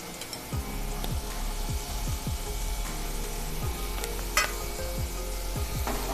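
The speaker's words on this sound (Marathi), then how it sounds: "व्यवस्थित असं प्रेस करून मिक्स करून घेऊया जेणेकरून व्यवस्थित हे मॅश होईल" Paneer, potato and cheese being pressed and mixed with masala in a pan over low heat, a soft hiss under repeated scraping and mashing strokes with a few sharper knocks, close by.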